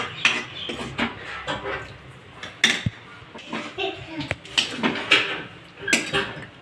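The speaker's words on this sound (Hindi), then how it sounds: "सर्व करने के लिए एक बाउल में निकाल लेते हैं इसको" Cooked spiced potato curry (aloo sabzi) is spooned out of a pan into a serving bowl, making scattered metal scrapes, clinks and knocks close by while someone talks over them.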